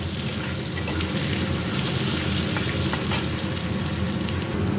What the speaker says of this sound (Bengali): আলুটা লাল লাল করে ভেজে নিয়েছি, এবার তুলে নেব।